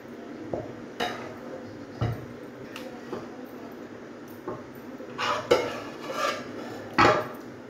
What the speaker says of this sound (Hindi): अब मैं इसको एक बाउल में डाल दूँगी।